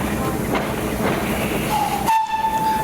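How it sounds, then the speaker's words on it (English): A heritage train on the East Lancs Railway, heard as a steady rumbling, hissing steam locomotive close by, with a long steam whistle sounding for the last second or so, loud over the continuous background noise. "Trains! Ranging from big and small, steam to diesel, heck, even electric!"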